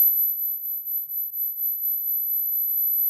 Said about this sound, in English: I could swear I hear whistling in the background.